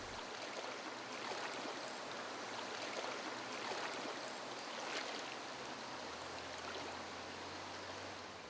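River water flowing steadily in a French river, a continuous broadband rush with no pauses, moderately distant and even in level throughout.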